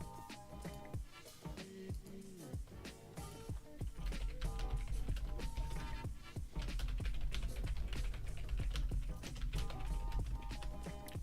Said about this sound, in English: So weird not having a super loud keyboard.